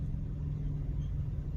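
A continuous low rumble of car engines in slow, jammed traffic near a crossing on Ortega Avenue in Laguna, heard from inside a vehicle, steady and muffled for a brief moment.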